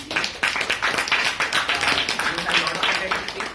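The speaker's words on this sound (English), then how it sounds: "Again, a round of applause for the GE." A club meeting audience gives a round of applause, with many hands clapping in a steady, fairly close patter that lasts the whole time.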